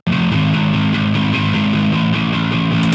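Bass guitar run through an amp plugin with heavy distortion, a thick, saturated, continuous tone with strong low end and a gritty, buzzing upper range, played loud and alone without any talking.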